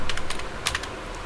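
A printf statement for a C loops program being typed on a computer keyboard: a quick, close burst of clicky keystrokes, loudest at the start and trailing off into a few lighter taps.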